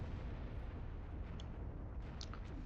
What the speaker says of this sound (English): We'll watch our shields just to see if the explosion actually does any damage here.